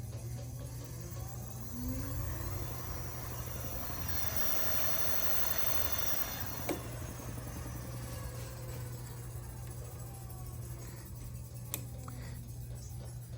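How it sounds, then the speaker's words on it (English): A Stealth Pro electric scooter rated for 50 mph and a 70-mile range with a 40Ah battery, its wheels spinning freely indoors at a scooter store, giving a steady motor hum and whine that runs unbroken for about thirteen seconds. "Now your wheels will start spinning."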